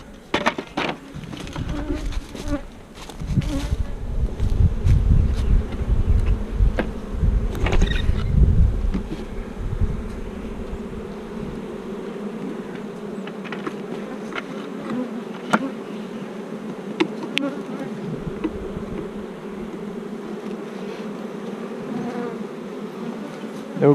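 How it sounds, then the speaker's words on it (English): Honey bees swarm around an open hive holding three frames of bees, making a loud, dense, steady buzz that swells strongly early on and then settles into a constant drone, with no talking. "We got 3 frames of bees in here."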